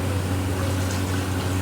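Water pouring into a pot of cooking keema, a steady continuous liquid rush with a low, even hum beneath it, heard close and alone for a brief moment.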